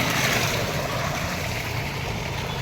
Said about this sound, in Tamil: ஒரு பம்பு செட்டில் எப்படி தண்ணி அப்படி ஃப்ரெஷ்ஷாக வந்துட்டு இருக்குதுங்க